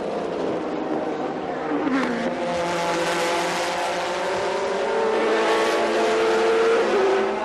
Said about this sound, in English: what a fight it was between Bergmeister and the number 31 Porsche against Mika Salo's Ferrari 430 GT